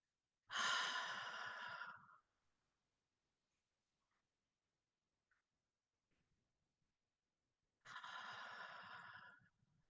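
Two slow, deep, breathy exhales through the mouth, each lasting over a second and separated by a long quiet pause with faint small sounds, close and soft.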